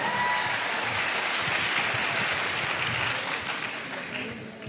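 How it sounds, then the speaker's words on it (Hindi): A large audience at an AWPL business seminar bursts into loud, sustained applause. The dense clapping fills the whole stretch and tapers off slightly at the end, with a voice faintly beneath it. "मैं चाहूंगा संजीव सर के लिए एक बार जोरदार तालियां"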